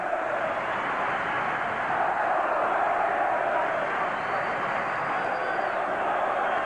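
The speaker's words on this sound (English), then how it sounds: "The Ranger crowd starting their chants again" Hockey crowd of New York Rangers fans at a 1986 NHL playoff game against the Washington Capitals, a broad sustained roar of chanting in an arena, heard at a distance and steady throughout.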